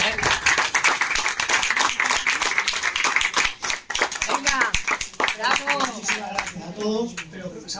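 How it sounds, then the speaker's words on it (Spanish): An audience at a farewell event for the outgoing president of the cancer association in Marbella claps in a brisk, uneven burst of many hands, fading as a voice begins to speak near the end. "creo que ese aplauso ha sido corto"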